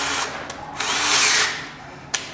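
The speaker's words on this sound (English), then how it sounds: "Set it up for speed 2 if you're already drilling. Drill your top one first." Power drill fitted with an auger bit boring into a door for a mortice lock: a loud, close motor whine with grinding bursts as the bit bites into wood, brief and continuous.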